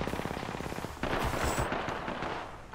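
Rapid gunfire in the video game Apex Legends, a fast run of sharp repeated shots followed by a louder, denser burst, with no talk over it.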